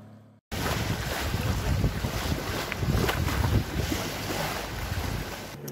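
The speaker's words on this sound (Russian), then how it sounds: "Мы пока еще идем на моторе" A sailing yacht motors across the Aegean Sea with a steady engine drone under gusting wind noise and the wash of waves along the hull, loud and continuous after a brief quiet start.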